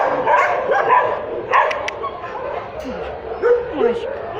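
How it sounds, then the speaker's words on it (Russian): Several dogs at an animal shelter bark, yip and whimper close by in short, repeated bursts, with people talking over them. "Не гавкай."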